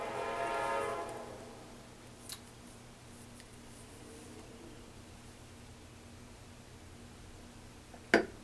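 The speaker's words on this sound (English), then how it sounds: "that's the Kansas City Southern Railroad right there" A Kansas City Southern Railroad train horn blares at the start, a loud, sustained chord that fades out within about a second, leaving a low rumbling background with a couple of sharp clicks.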